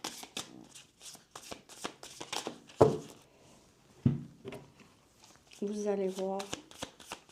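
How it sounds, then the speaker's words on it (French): Playing cards shuffled by hand in a few brief riffling bursts, heard between stretches of French speech and close to the listener. "Je vais brasser les cartes."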